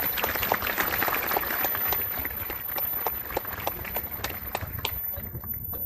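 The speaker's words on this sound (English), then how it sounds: "If you can give a round of applause to all of the board members who make this event happen" Dense applause from an outdoor crowd at a Memorial Day ceremony in El Dorado County Veterans Park, honoring the event's board members. The clapping is steady and fairly loud across the whole stretch, with sharper individual claps standing out.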